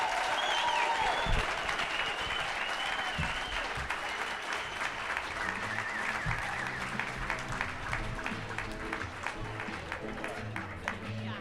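A conservative conference crowd applauds honoring a police officer, sheriffs and a district attorney, loud sustained clapping from a large audience with cheering voices mixed in throughout.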